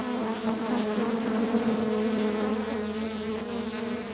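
A dense, steady buzz of many honeybees rises from an opened hive in late winter, loud and close and droning without pause, with no talk over it.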